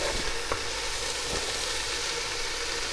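Chopped ginger going into a pan of frying red, white and yellow onion, a continuous close sizzle with a few soft stirring scrapes and light knocks.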